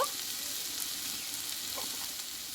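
Red amaranth greens frying in white oil with a spoonful of poppy seeds, giving a steady, close, even sizzle with no talking.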